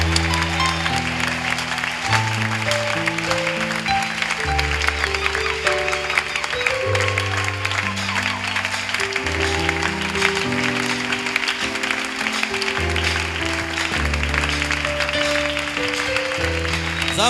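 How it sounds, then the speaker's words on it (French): A church congregation claps continuously under loud music with organ-like sustained chords, the applause a steady dense patter for the whole stretch. "Sur les acclamations, bien sûr."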